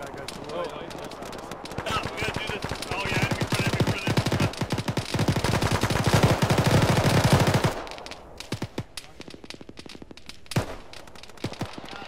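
Gunfire in a military video game: a long, dense stretch of rapid machine-gun bursts and scattered shots, loud and continuous, then easing to sparser distant pops, with voices talking over it.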